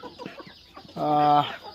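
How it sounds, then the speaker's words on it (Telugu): Chickens in a shed on a small farm cluck while feeding, a loud close burst of harmonic clucking in the middle after softer scattered clucks and pecking. "ఇంత మంచిగా తింటున్నాయి చూడండి కోళ్ళు"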